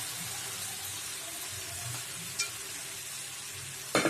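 Fried chicken pieces stirred into masala on a low flame, a soft, steady sizzle with gentle scraping and a couple of brief knocks of the spoon against the pan.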